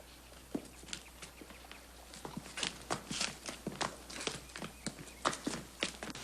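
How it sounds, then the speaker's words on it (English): Horses moving on the ground in an old Western setting, a faint irregular clatter of hooves and footsteps that grows busier toward the end, with no talking. "Let's get to the horses."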